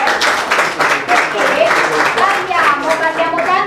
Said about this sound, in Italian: Voglio un grande applauso per il dottore